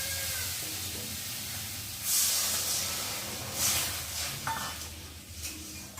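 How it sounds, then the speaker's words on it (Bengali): Water poured into a hot pan of fried potatoes for Maggi noodles, a sustained loud hiss and steaming sizzle with surges of spitting bursts, close and continuous without talk. "আর এখন আমি এর মধ্যে জল দিয়ে দেবো।"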